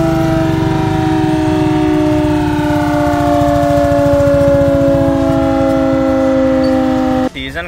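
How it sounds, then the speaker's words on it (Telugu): A sugar factory siren sounding for the lunch break at a cooperative sugar industry mill, a loud sustained wailing tone holding steady for several seconds before cutting off abruptly near the end. "ఇప్పుడే లంచ్ బ్రేక్ అయింది, సో సైరన్ మోగింది."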